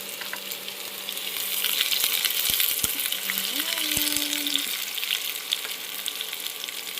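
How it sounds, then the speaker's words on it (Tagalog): Onion sizzles steadily in a hot pan, a continuous crackling fry with a few utensil clinks and a short tonal squeak partway through. "At igisa po natin ng onion."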